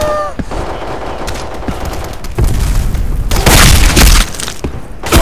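Bursts of automatic gunfire and booming shots from a PC shooter game, crackling loudly in clusters that intensify toward the end, with a faint voice in the background.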